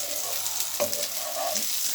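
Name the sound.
stirring red onions, spring onions and red peppers frying in coconut oil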